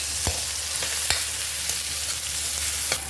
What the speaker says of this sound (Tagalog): Ilagay natin yung kamatis.